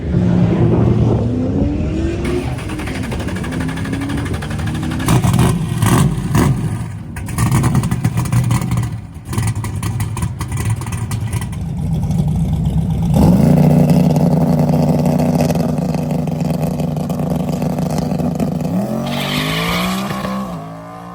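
A race car running more boost, its engine revving hard and loud throughout with rising and falling pitch sweeps, bursts of acceleration and tire squeal, heard up close and continuous with no talk.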